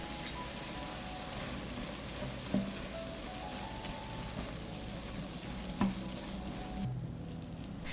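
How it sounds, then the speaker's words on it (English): Minced meat, 500 grams, fries in a pan with salt, pepper, ground red pepper and tomato paste, giving a steady close sizzle with a couple of brief clanks of a utensil and no voices. "I fry the meat until done"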